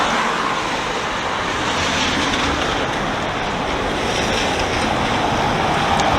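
Waves splash and wash steadily onto a rocky shore along a seaside stroll near Hastings, a loud continuous surf roar with no voices.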